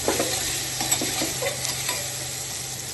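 Steady sizzling of tomatoes sautéing in a pan, with light scraping stirs on top; no voices.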